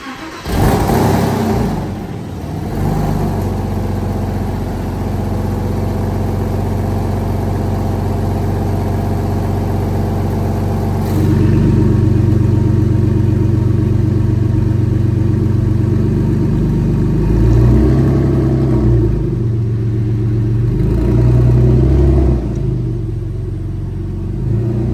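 A Porsche Boxster 986 fitted with a Soul valved muffler bypass exhaust drives steadily, its engine droning loud and close throughout with rising revs, surges under acceleration and brief dips between gear changes.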